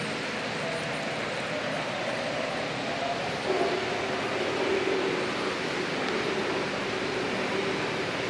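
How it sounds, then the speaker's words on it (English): Model trains run at a railroad museum, giving a steady mechanical rumble and whir that holds at an even level throughout, with a faint tonal hum rising slightly midway and no talking. "Alright, I got the trains running."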